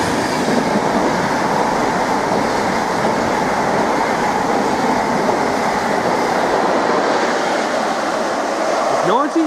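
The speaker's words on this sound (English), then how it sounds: "we've got a Norwich bound Mark III set now" Norwich-bound Mark III coaching set passing through Needham Market station, a loud steady close roar and rumble of wheels and rails lasting throughout, with a faint squeal near the end.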